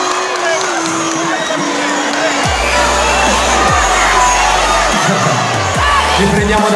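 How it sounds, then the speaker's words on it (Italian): A large, dense crowd at a fan meetup in Collestrada, Perugia cheers and shouts loudly and continuously, with whoops rising above the roar. "Fate un applauso a Marta."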